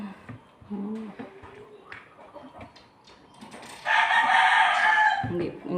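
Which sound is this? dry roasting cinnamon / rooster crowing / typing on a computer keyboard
rooster crowing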